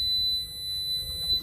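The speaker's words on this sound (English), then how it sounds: "The other one didn't do that long beep" A B&G Triton2 marine display rebooting after a firmware update gives a steady, sustained electronic beep, clean and continuous for the length of the clip, with faint background hum and no talking.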